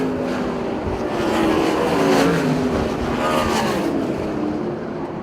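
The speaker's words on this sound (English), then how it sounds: "Tyler Reeser coming off a 4, and he will win the first heat race for the Weikert Livestock 410 sprint cars" 410 sprint cars roar across the finish line at Port Royal Speedway, a loud, continuous dense engine drone from several cars that swells and passes with no talk.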